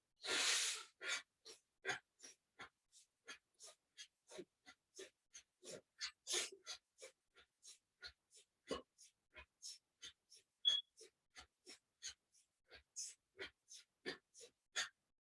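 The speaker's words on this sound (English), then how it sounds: "So as you breathe in, you push yourself up, breathe out, push your belly button in." Forceful pranayama breathing through the nose, a long series of sharp, rhythmic in-and-out breaths, close and fairly quiet, steady in pace with brief gaps between each puff.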